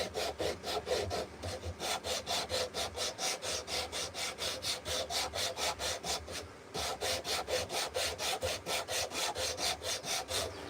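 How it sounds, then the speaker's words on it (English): Sandpaper rubs a hand-carved wooden spoon in a workshop, a steady run of quick, even back-and-forth strokes that stays close and moderately loud throughout, with a brief pause midway. "let's see what the sandpaper has done"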